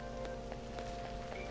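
Rainy-season rainfall in the video game Persona 5, a soft steady patter of raindrops on surfaces beneath a faint sustained tonal background, quiet and even throughout.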